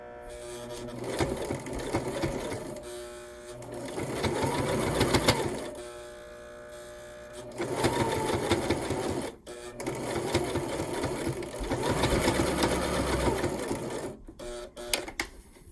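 A sewing machine stitches lace onto a fabric patch heart in several separate runs, each a few seconds long, with short pauses between them.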